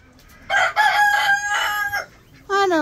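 A rooster crows loudly and close by in one long, drawn-out call, followed by the start of a second crow.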